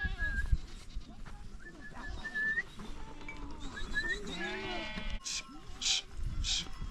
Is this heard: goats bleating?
yes